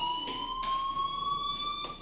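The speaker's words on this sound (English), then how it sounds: "do you hear that fire alarm? That means you should be outside." Fire alarm ringing in the Life Is Strange video game, a continuous shrill electronic tone sounding steadily and fairly loud, with brief faint bursts of background noise and no talk over it.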